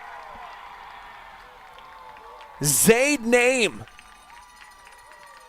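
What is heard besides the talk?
crowd roaring after Southview scores a goal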